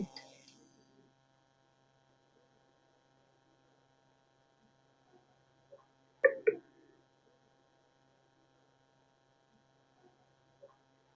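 A desktop computer tower powers on again after new RAM was fitted and shows no display: a faint, steady low hum with a couple of sharp clicks around the middle.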